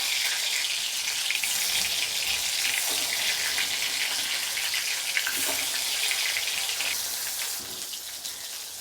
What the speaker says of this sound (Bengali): কড়াইয়ের মধ্যে আমি এবার বেগুনগুলো দিয়ে দেবো তেলটা গরম হয়ে গেছে